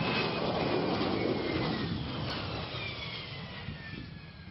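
A McDonnell Douglas AV-8B Harrier II jet rumbles steadily at a distance with a broad roar and a faint high whine gliding slowly downward, fading slightly toward the end, with no talk.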